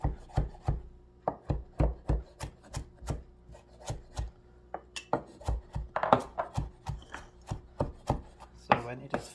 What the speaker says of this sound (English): you gotta making sure to fine chop the spinach